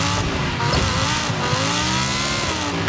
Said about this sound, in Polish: dalej się ślizga samochód